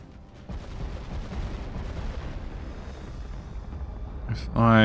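Battleship guns fire at range in the naval game Ultimate Admiral Dreadnoughts, a sustained rumbling barrage of booms that rises sharply at the very end, with a voice talking over it.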